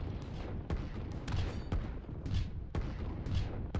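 Repeated booms and bursts of artillery fire in a strategy war game, several loud impacts at irregular intervals over a constant rumbling battle background.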